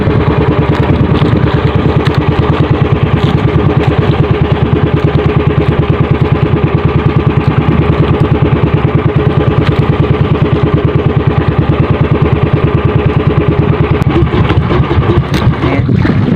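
A fishing boat's engine chugs loudly and close in a steady, rapid rhythmic pulse that continues unbroken for the whole stretch, with no voices over it.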